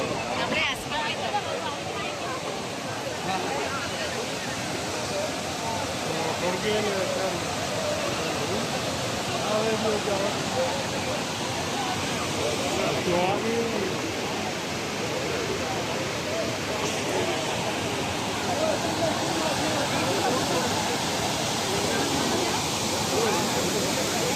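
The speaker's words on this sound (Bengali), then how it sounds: "এই ঝর্ণাটি হলো কৃত্রিম একটি ঝর্ণা যেটা তাদের নিজস্ব তৈরি শুধু এ গার্ডেনটির সৌন্দর্যের জন্য" An artificial fountain in a hanging garden in Dubai splashes in a steady, broad watery hiss, continuous and even throughout, with a crowd murmuring and a voice talking over it.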